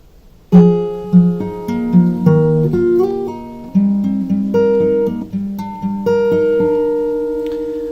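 Solo guitar picking a song's verse, a melodic pattern of plucked notes over a ringing bass note, clear and close, with a steady moderate rhythm.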